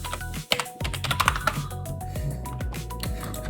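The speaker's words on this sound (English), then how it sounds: "I've got a sticky keyboard." Rapid, uneven clicking of a sticky computer keyboard being typed on up close, with a few sharper key strikes and short pauses between bursts.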